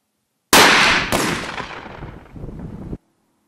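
A single loud, close shotgun blast from an ELOS Traqueur 12-gauge 12/76 rifle, a sharp crack with a quick second report, followed by a rumbling echo that fades out over about two seconds.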